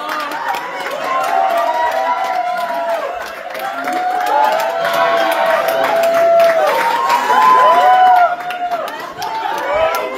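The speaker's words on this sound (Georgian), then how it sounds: "გათავისუფლების შემდეგ ისინი აბრამოვს ტაშითა და შეძახილებით შეხვდნენ" Supporters in a courthouse hall and corridor greet an acquitted demonstrator with applause and cheering, a loud, sustained crowd din of clapping, shouts and overlapping chatter filling the space.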